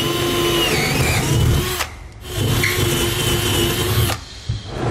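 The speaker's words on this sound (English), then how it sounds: "I'm going to get my hole location marked there on each side, and then I'm ready to drill those out" A power drill whirs steadily and loudly nearby, drilling mounting holes for a forged D-ring tie-down anchor, stopping briefly twice between sustained bursts of drilling.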